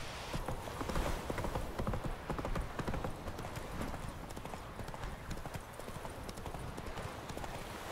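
Galloping horse hooves from The Witcher 3 video game, a fast steady clip-clop rhythm that runs without pause, moderately close and fairly quiet under soft ambient game sound.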